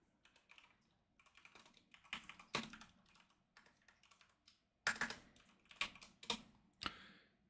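Crisp, close computer keyboard typing during a live trading session, coming in irregular bursts of keystrokes with brief pauses and a few louder key hits, with no talking.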